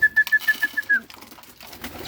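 Pigeons at feeding time give a quick run of about six soft, rhythmic coos, close and fairly quiet, followed by faint rustling and shuffling.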